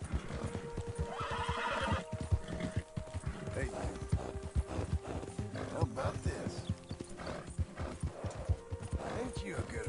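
Horse hooves clip-clop steadily with neighing and whinnies from a horse in the Red Dead Redemption 2 game, heard close and continuous while someone talks over them.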